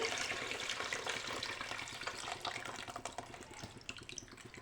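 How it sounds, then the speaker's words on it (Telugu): Tamarind water poured into a pot of sambar, a steady splashing, gurgling pour that stays close and fairly loud throughout, thinning slightly toward the end, with no talking. "ఇప్పుడు ఇందులోకి మనం చింతపండు వాటర్ అనేది వేసేసుకుందాము"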